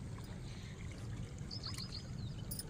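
A low, continuous rush of water pouring and trickling into a pumpkin field, with faint high chirps in the background near the end.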